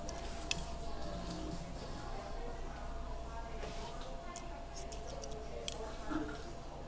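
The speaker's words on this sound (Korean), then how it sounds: "잘라 갈게요." Scissors cutting hair during a bob cushion perm session: faint, close, irregular snips and ticks scattered over a quiet room hum, while a voice speaks at times.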